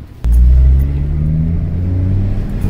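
A car's modified exhaust, fitted with a drone-reducing fix in the wheel well, revs up sharply with a deep, loud rumble, then settles into a steady, throaty drone close by.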